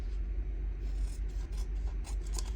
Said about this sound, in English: turn it over and then we'll just cut the edges off